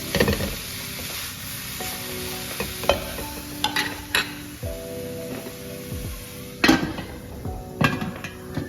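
Boiled macaroni being stirred together with vegetables in a pot, heard as close scraping and clanking of a spoon against metal with soft mixing sounds and some louder knocks, without speech.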